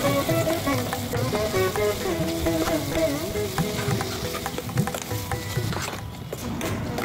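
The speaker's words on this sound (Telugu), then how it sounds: "తరువాత గ్రైండ్ చేసిన పచ్చి చింతకాయ పచ్చడి ఈ తాలింపులో వేసి బాగా కలపాలి" Ground raw tamarind chutney stirred into a hot tempering of oil and spices in a pan, a busy, steady sizzle with scraping stir strokes over several seconds and no voices.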